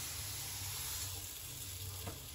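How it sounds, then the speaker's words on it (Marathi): Thalipeeth made from bhajani flour hisses steadily in ghee on a hot tawa, a soft continuous sizzle with no voices, fairly quiet and even throughout. "तवा आपला तापलेला आहे, त्याच्यावर थोडं तूप सोडायचं, आणि असं थालीपीठ टाकायचं"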